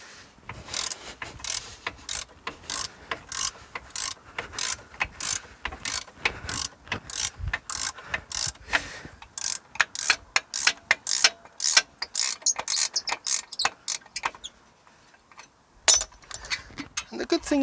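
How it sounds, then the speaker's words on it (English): A ratcheting wrench clicks rapidly and closely as it turns a bolt during a wheel hub replacement on a Mitsubishi 3000GT/GTO. The clicks come in quick repeated strokes and continue with brief pauses. "It works the same as your regular wrench, but now you don't have to take the spanner off."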